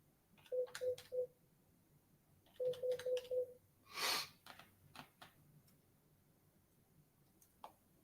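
A desk phone being dialed: two quick runs of short, evenly spaced keypad beeps, close and clear, then a brief hissy burst and a few scattered light clicks, with no one talking.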